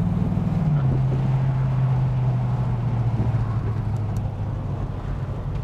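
Engine of a 1973 Buick Riviera accelerating on a road test, a steady low rumbling drone heard from inside the car with gently falling pitch and wind and road noise around it.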